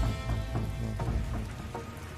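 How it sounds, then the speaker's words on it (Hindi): Steady rain pours down on foliage and surfaces around a village home during a sudden monsoon storm, a dense, continuous patter with brief louder drops, close by and with no voices. "बारिश में हम तो पूरी तरह से भीग गए।"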